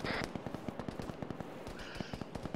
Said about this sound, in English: Heavy machine gunner downrange.